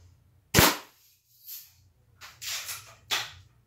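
Daisy Red Ryder BB gun firing, one sharp close crack followed by softer rattling and mechanical clatter, then a further sharp snap.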